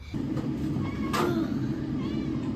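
A house cat gives a drawn-out meow over a steady low rumble of background noise, close and moderately loud.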